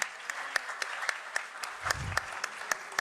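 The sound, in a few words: audience applause for an award recipient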